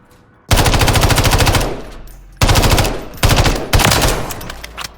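Automatic gunfire at the firing range in Modern Warfare 3, with loud sustained bursts of rapid shots, one long burst followed by several shorter ones, close and alone.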